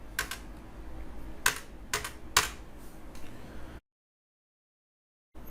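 Close keystrokes on a computer keyboard while entering an SQL update command in Oracle APEX, a few scattered clicks and short bursts of typing, then a stretch of silence.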